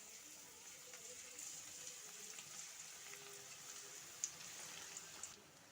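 Ragi pakoda dough pinched into hot oil sizzles and fries steadily, a soft continuous crackle with a few sharper pops, fairly faint and heard alone.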